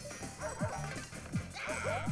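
Chain Chomp enemy in the New Super Mario Bros. Wii video game barking in short, sharp yaps, three or four bursts spread over about two seconds amid busy game music and effects.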